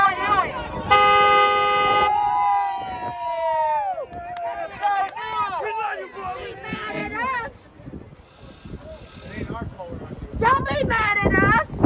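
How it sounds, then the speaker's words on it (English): Car horns honk on a busy street, one long sustained blast followed by shorter toots and other horns, mixed with shouting voices and traffic noise; people talk and yell throughout. "Honk your horn."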